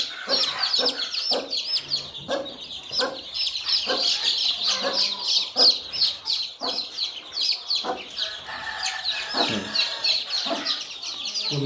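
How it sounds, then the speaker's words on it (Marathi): A crowd of young free-range (gavran) chicks cheeps nearby in rapid, overlapping high-pitched peeps that carry on without a break. "गावरानी असल्यामुळे चिलचिल करते"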